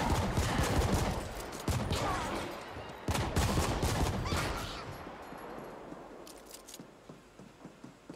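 Rapid bursts of gunfire from the video game The Ascent, loud dense volleys of shots in the first half, then thinning to scattered sharper cracks.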